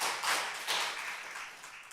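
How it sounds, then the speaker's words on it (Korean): A church congregation gives a soft round of encouraging applause during an afternoon worship service, a faint, diffuse patter of many hands clapping from across the room. "여러분 격려의 박수 부탁합니다"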